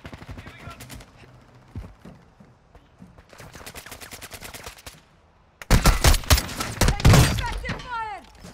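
Gunfire in a shooter video game: scattered shots and clicks at first, then loud, dense bursts of rapid fire near the end, with voices talking throughout.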